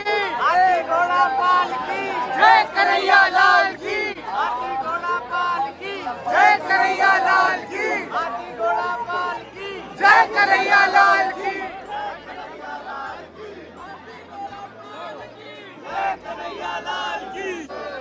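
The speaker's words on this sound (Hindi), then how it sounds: "सब राधा रानी और कृष्ण जी के नारे लगा रहे थे" A dense Holi crowd in Vrindavan chants slogans for Radha Rani and Krishna, with loud surging waves of many voices shouting together in rhythmic bursts and continuous crowd babble between them.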